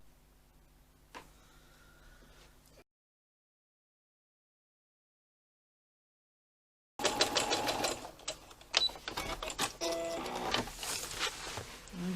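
A sewing machine stitches quarter-inch seams on a tote bag, a quiet hum and brief clicks giving way after a silent gap to a fast, loud, steady run of rattling needle strokes.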